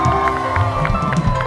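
A television studio audience cheers and claps for a band, a dense burst of crowd noise with shouts rising over steady applause.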